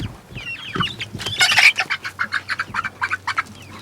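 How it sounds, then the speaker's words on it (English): Chickens cluck and squawk inside a coop, one loud burst followed by a rapid run of close, rhythmic clucks. "Ransom, you're gonna go in and catch this chicken?"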